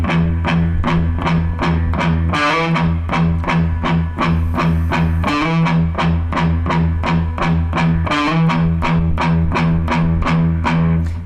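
Distorted electric guitar plays a riff, the phrase repeated four times with open low-string chugs and a slide: dense, loud and continuous, steady driving rhythm with no talking.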